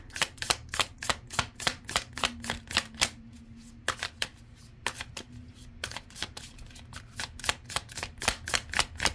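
Tarot cards are shuffled by hand in close, crisp bursts of riffling clicks, with brief pauses between rounds as the deck is worked to draw a final card.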